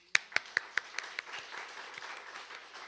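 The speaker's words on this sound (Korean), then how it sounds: "하나님 앞에 영광의 박수를 올려드리겠습니다" A church congregation at a Sunday service claps together, opening with several sharp, evenly spaced claps that loosen into softer, scattered applause as it trails off.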